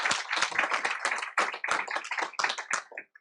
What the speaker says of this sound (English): let's give Middle School Teacher of the Year and Employees of the Year a big round of applause